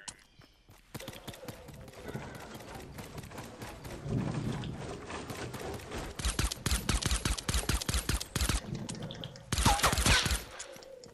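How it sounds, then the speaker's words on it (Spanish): Rapid bursts of gunfire in the video game Fortnite crackle in quick succession, loud and sharp, with a heavy flurry near the end and faint voices between volleys. "Suenan disparos."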